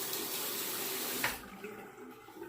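Tap water from a sink faucet runs steadily in a bathroom while a razor is wetted before a wet shave, a close, continuous splashing hiss that cuts off partway through, leaving quieter room sound.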